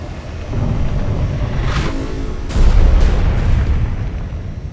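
A saucer's weapons destroy the Blisk warship in Destroy All Humans!, with a string of deep rumbling explosions and booms that swell louder near the end and continue without pause.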